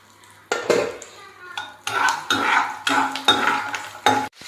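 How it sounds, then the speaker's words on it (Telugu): Garlic dropped into hot oil already tempering with mustard seeds, cumin and urad dal: loud bursts of spluttering and scraping from a pan, stirred in uneven strokes with short pauses between. "అందులోనే కొంచెం వెల్లుల్లిపాయలు వేస్తున్నానండి"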